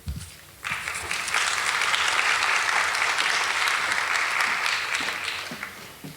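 An audience at a middle school magnet parent information meeting breaks into applause, a dense burst of clapping that swells quickly, holds for several seconds and fades out near the end.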